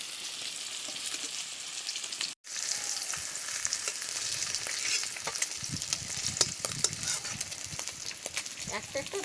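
Large fish pieces frying in hot oil in a pan, a continuous crackling sizzle with scattered pops, close and fairly quiet, briefly cut off near the start before resuming.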